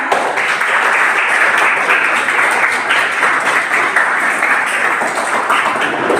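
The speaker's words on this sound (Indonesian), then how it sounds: "Boleh tepuk tangan untuk kami." A classroom of students claps together in a dense, steady burst of applause that holds at an even, fairly close level throughout, with no talk over it.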